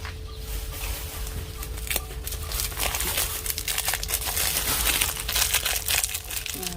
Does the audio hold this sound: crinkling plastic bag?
yes